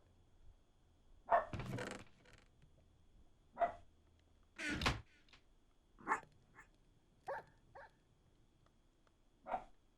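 A tamed dog barks repeatedly in a hardcore Minecraft world, with sharp yips spaced a second or two apart, a quick double bark near the start and single barks after it. The barks are moderately loud and close, and there is no talk.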